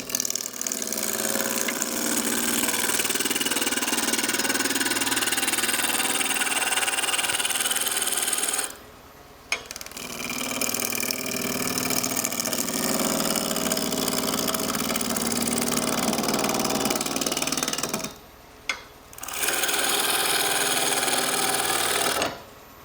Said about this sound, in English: I'm doing this now with my roughing gouge, my spindle roughing gouge.